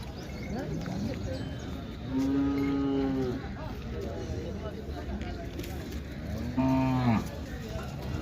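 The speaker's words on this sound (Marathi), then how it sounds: "समोर एक मित्रांनो खिलार गाय आहे" A Khillar cow moos twice at a cattle market in Sangola, long low calls several seconds apart, loud and close over steady outdoor background noise.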